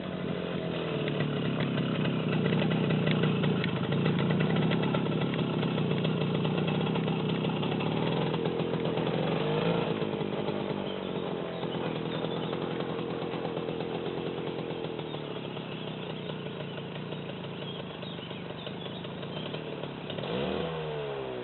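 A Romet motorcycle engine runs steadily for the whole stretch, a close, buzzy drone that sags slightly near the end and rises briefly once. The bike is ridden slowly by a beginner easing out the clutch.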